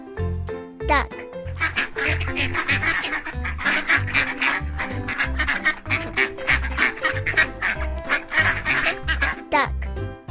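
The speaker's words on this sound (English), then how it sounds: "Duck." A duck quacks loudly and rapidly in dense, overlapping bursts, with several other calls mixed in, close and continuous throughout.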